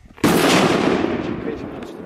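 A Crazy Robot firecracker goes off outdoors: one sharp, loud bang followed by a long crackling burst that slowly fades over two seconds, with no voices over it.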